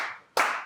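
A single sharp clap rings out from a pro wrestling crowd backing the champion at a Pro Wrestling Ontario show, a brief, crisp burst after a short fading tail of earlier noise.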